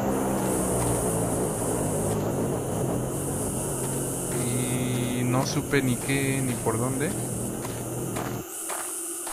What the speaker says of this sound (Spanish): ese es el sonido de un avión